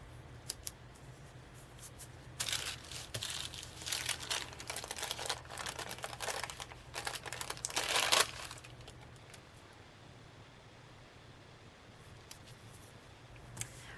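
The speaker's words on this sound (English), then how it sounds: "I can go ahead and peel this sticker right off the wax paper." A sticker is peeled off waxy-coated wax paper, giving a run of close crinkling, tearing rustles for several seconds before the sound settles back to quiet.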